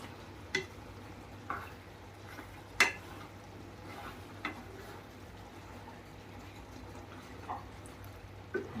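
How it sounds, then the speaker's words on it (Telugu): Frying food in a pan is stirred by hand, a quiet steady sizzle broken by scattered sharp scrapes and clinks of a utensil against the pan, heard alone. "ఇలా కలుపుతూనే ఉండాలా?"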